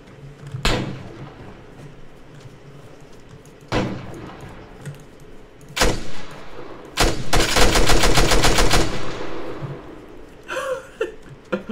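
Gunfire in the video game Arma 3: several loud single shots spaced a second or two apart, then a rapid automatic burst lasting a couple of seconds, followed by a final crackling shot, all close and sharp with no talking.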